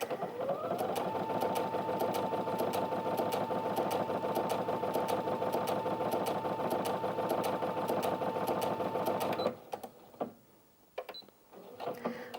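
A Brother Innovis NV1350 sewing machine stitches steadily at close range, a continuous fast mechanical whir with a whining tone that runs for about nine seconds, then stops, leaving a few faint clicks and handling noises.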